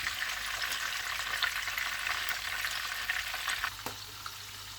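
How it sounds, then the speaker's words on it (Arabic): Peppers sizzle steadily in hot oil in a pan, a dense continuous frying hiss with faint crackles, close and loud, alone without voices. "نديرو الفلفل ونقليهم"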